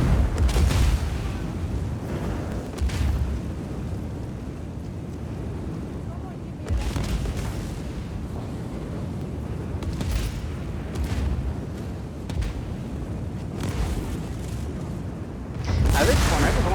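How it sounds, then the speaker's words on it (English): Repeated booms and rumbling blasts from the open-world action game Just Cause 4, objects exploding one after another, with louder bursts at the start, near the middle and at the end over a constant roaring bed, and a voice talking at moments. "I didn't do anything to these things this time, and they're all exploding."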